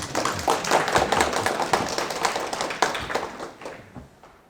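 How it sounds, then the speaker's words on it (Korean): A lecture audience in Gumi gives a round of applause at a humanities talk: dense, fairly close clapping that holds steady, then thins and fades toward the end. "박수 한번 쳐주십시오, 여러분."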